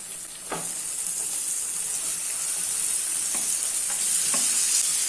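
Chicken frying in a pan over a medium flame gives a steady, close sizzle and hiss, with a few soft stirring scrapes along the way.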